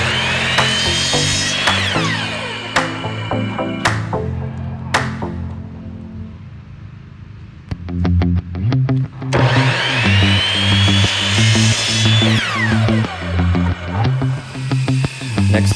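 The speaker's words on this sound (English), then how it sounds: "I use my miter saw to make a 10-degree angle cut for the inserts" A miter saw makes 10-degree angle cuts in wood: a loud, close motor whine spins up, bites through the board and winds down, then starts again for a second cut, with a rising pitch sweep on each run-up.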